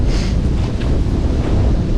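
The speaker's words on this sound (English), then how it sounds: "It's windy now" Strong winter wind at a snowy campsite buffets the microphone with a constant loud rumble and roar, no voices, just gusting air.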